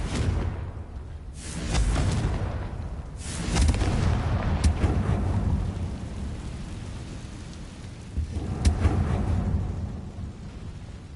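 Blasting spell explosions in the Hogwarts Legacy video game boom out in loud, rumbling bursts, two big blasts early and another near the end, with crackling debris between.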